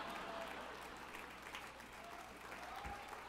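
An awards ceremony audience applauds steadily, a dense sustained wash of clapping that stays even throughout, heard from within the hall.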